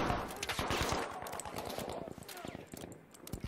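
Rapid bursts of automatic gunfire from the video game Battlefield 5 crack close and loud, fired in fast repeated volleys with short gaps.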